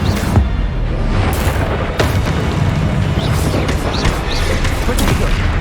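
A fire spell cast in the video game Hogwarts Legacy on PS5 bursts amid loud, continuous combat effects, with sharp booming impacts and crackling blasts layered over a dense rumbling background.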